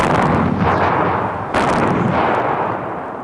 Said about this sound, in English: quickly gets off two shots